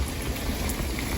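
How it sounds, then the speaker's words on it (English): Piece of dough frying in hot oil, a loud, dense, steady sizzle with crackling bubbles that runs without a break and with no talk over it. "I'm gonna get a piece of our dough and I'm gonna put it on this spatula, and I'm going to set it into the oil."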